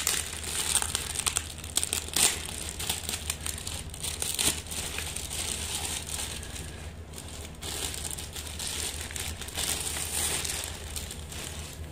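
A Jollychic parcel is opened in an unboxing, its plastic packaging crinkling and rustling steadily for about twelve seconds, close and fairly loud with a few sharper tears, no talk.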